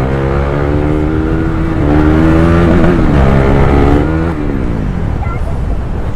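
Two KTM Duke 390 motorcycles, one BS6 and one BS4, rev and ride together on a hill road, a loud, steady engine drone with rising and falling pitch close by, swelling midway.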